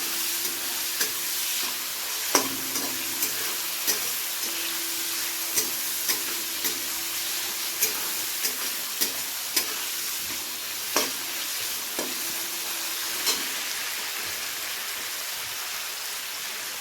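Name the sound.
vegetables frying in a pan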